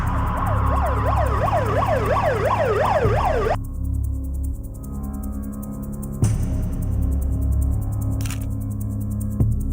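A loud wailing ambulance siren sweeps rapidly up and down, then cuts off abruptly, leaving a low engine rumble and a few sharp knocks.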